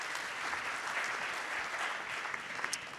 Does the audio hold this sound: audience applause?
yes